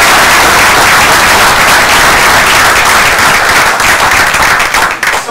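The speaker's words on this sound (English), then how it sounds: "So let's give them a round of applause" A support group audience gives loud, sustained applause for the staff, dense clapping close by that holds steady and tapers slightly near the end.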